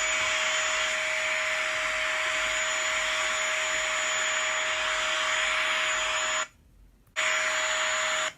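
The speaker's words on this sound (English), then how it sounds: "What is it? A vacuum." Vacuum cleaner running steadily with a loud, constant whine and hum, cutting out briefly for about half a second before starting again.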